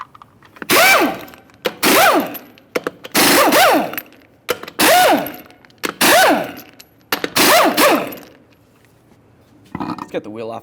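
Impact wrench removing 22mm lug nuts from a 1999-2006 Chevrolet Silverado 1500 front wheel, six loud close bursts of rattling hammering with pitch sweeps, separated by short pauses, followed by quieter clatter.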